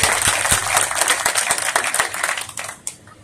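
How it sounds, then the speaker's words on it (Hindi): A crowd at a grain market gives a lively round of applause to welcome the chairman, many hands clapping densely and loudly before thinning out toward the end. "इस तरीके से तालियों के साथ उनका स्वागत करें।"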